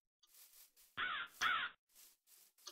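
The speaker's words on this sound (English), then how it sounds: "Look, a crow." A crow in the Minecraft video game gives two loud, harsh caws in quick succession, standing out clearly over softer, breathy ambient game sounds.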